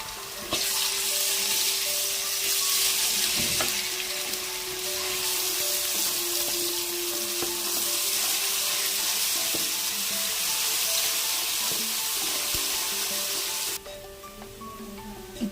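Ginger garlic paste frying in hot oil in a pan for a Rayalaseema-style fish curry, a loud continuous sizzle that holds steady for most of the stretch, then drops away abruptly near the end.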